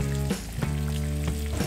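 Eggs sizzle and crackle steadily in a frying pan alongside tomato for a full English breakfast, a continuous close, loud frying hiss with a few soft pops and no voices.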